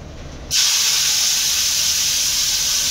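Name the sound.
onions added to hot pan, sizzling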